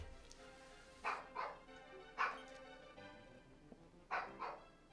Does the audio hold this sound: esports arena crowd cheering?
no